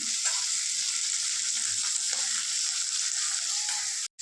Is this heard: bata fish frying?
yes